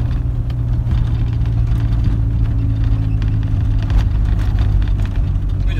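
A car creeps slowly along an asphalt road in the village of Kyshtovka, giving a close, steady low engine drone with no speech.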